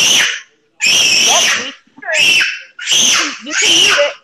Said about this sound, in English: You don't want to hear that screaming?